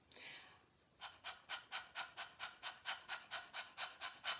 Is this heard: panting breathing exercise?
yes